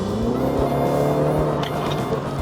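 A Mini JCW convertible engine runs close by in mid (normal) mode, a steady low rumbling drone with a slight rise in pitch, no voices over it.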